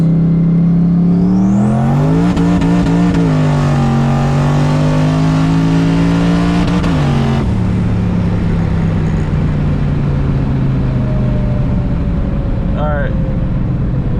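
A twin-turbo Cobra makes a high-boost pull, the engine screaming up toward redline with quick rises and gear changes, then dropping to a lower drone; brief voices come through faintly.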